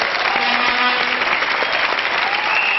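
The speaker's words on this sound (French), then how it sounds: "On applaudit Laurent Baffi encore une fois" A television studio audience applauds, dense steady clapping that fills the whole short stretch.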